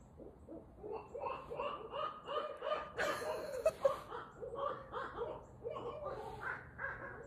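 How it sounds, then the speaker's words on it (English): Crows cawing outdoors as darkness falls, a steady run of harsh repeated caws from several birds at moderate distance, with one brief louder burst partway through. "I have no idea what those birds are."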